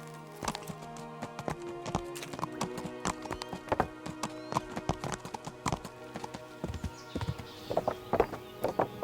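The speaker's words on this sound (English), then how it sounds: "it's just a horse I found." Horse hooves in the video game Kingdom Come: Deliverance, a steady rhythmic clip-clop of a ridden horse at a walk, close and moderately loud over a soft tonal game score.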